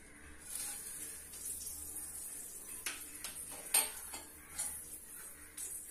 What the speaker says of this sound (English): Now it is oil is heated. We can put the mustard seeds, then 1/2 teaspoon of